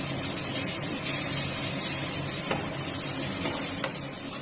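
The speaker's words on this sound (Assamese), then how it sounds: "এতিয়া আমি এইখিনি ভাজি ল'ম ধুনীয়াকৈ।" Spices fry in a pan for an Assamese rohu fish kalia, giving a steady, close sizzling hiss with a couple of sharp clinks from stirring.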